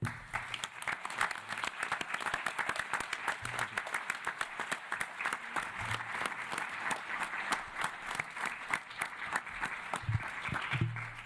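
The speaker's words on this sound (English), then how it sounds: "would you please join me in a hearty round of applause to thank our wonderful speakers and supporters here today" An audience at a UN tobacco-free finance pledge anniversary event gives a hearty round of applause, many hands clapping in a sustained, rhythmic patter at moderate volume, with faint voices underneath.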